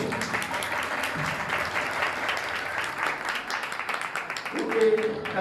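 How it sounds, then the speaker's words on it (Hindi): A church congregation claps loudly for Brother Kokar during a thanksgiving worship service, a dense, continuous round of applause, with a brief voice or tone near the end. "भाई कोकर के लिए जोरदार तालियां बजाएं"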